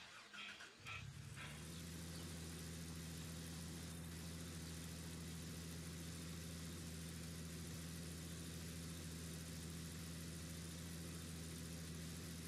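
A vehicle engine in the Gold Rush game runs at a steady low hum and drone after a brief rattling start, holding even and continuous for the rest of the stretch.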